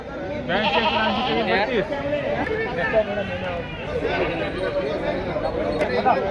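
Goats bleat repeatedly amid a busy crowd of chattering voices at a large goat market in Umarkhed, Yavatmal district, the wavering cries rising over steady market noise.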